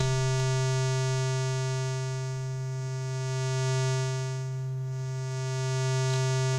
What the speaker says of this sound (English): I can morph a triangle wave into a square.